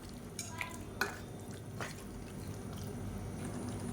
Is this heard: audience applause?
no